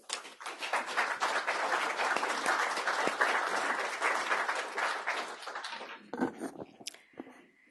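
Lecture audience at Carnegie applauding to welcome Professor Linda Bilmes: dense, steady clapping from many hands for about six seconds, then fading out into a few scattered claps.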